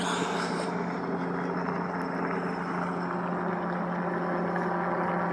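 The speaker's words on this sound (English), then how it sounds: "We have the helicopter circling still." A police helicopter circles steadily in the distance over an active shooter drill at a high school, a constant low rumbling hum that neither fades nor swells.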